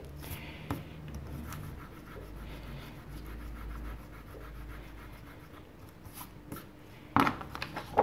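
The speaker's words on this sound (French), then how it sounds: "Et ça gomme, et ça gomme, et ça gomme" An eraser rubs colored pencil off paper, a quiet, steady scrubbing with repeated back-and-forth strokes, close and soft, ending with a couple of louder sharp knocks.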